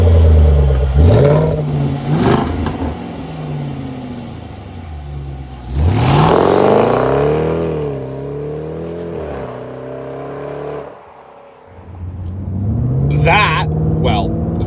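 A powerful 2025 Jaguar F-Pace SVR engine, 567 horsepower through a quad exhaust, revs hard several times, roaring and rising then falling in pitch, close and loud, with brief dips between bursts.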